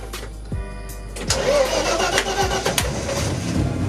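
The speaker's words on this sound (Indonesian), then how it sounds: "Dan mobil ini langsung hidup" A Mercedes-Benz C240 race car engine cranks and fires into a rough, loud idle, with a few low thumps before it catches and keeps running close by.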